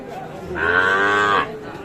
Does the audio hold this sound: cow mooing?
yes